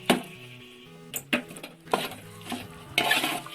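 Beef masala for meat rice is stirred in a pot, giving a few close scraping strokes and clinks of a utensil against the metal pot, with a faint sizzle between them.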